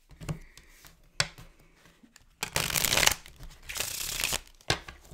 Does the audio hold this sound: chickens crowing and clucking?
no